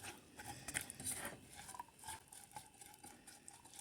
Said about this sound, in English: Gonna mix that all up.